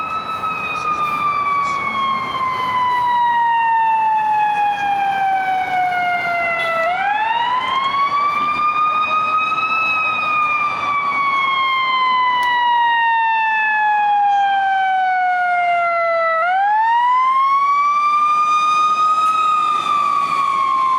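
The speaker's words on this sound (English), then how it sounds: "I hear sirens. Sounds like it might be a fire truck." A fire truck siren wails loudly and steadily near a medical center, its pitch sliding down slowly and then sweeping back up twice over a constant rumble.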